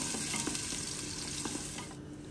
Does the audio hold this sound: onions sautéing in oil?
yes